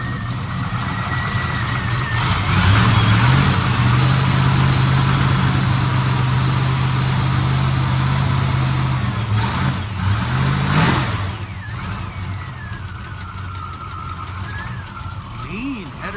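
A 1972 Chevelle V8 with a header leak idles roughly and then revs up in a long sustained pull before settling back, loud and close, with a person talking over it.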